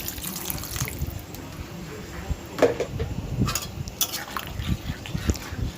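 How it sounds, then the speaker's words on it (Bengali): Water splashes and runs into a pot of shrimp, pumpkin and Malabar spinach curry in a steady close pour, broken by a few sharper splashes. "এর মধ্যে দিয়ে দেবো অল্প করে জল"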